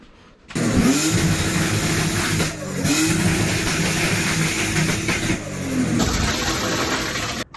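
A drift car engine with a screamer pipe revs hard and bounces off the rev limiter in repeated loud bursts, with brief dips in between, close and sustained with no talking.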